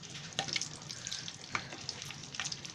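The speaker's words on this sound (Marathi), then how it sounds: "तेल तापलं आहे, अशी मिरची सोडायची मग तेलामध्ये" Stuffed green chillies hit hot oil in a pan, setting off a steady crackling sizzle with sharper spits and pops at intervals, close and fairly quiet, no voices.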